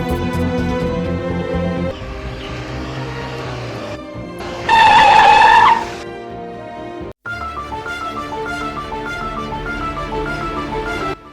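A car brakes to a sudden stop with a sharp, high tire squeal lasting about a second. Music plays before and after it, and the sound cuts briefly to silence after the stop.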